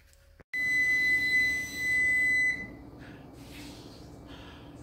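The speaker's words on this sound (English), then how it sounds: "As you hear, my timer just went off." A kitchen timer goes off with a loud, sustained electronic beeping, steady and close, running for about two seconds before stopping and leaving quiet room noise.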